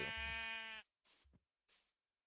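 A single drawn-out bleat from a Minecraft sheep, close and clear with a wavering pitch, followed by two short soft bumps of movement in otherwise quiet surroundings.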